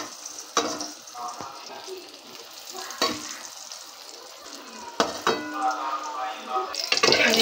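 A paratha fries in a pan, giving a soft crackling sizzle punctuated by sharp scraping and tapping clicks from a utensil, with faint voices in the background.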